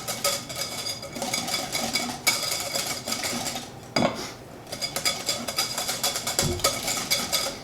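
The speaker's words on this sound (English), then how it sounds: "put in about 2 tablespoons of just regular yellow mustard. And again, give it a quick stir." Spoon stirring regular yellow mustard into a BBQ mixture in a pot, repeated metallic scraping and clinks of cutlery against cookware, close and steady with a few sharper knocks.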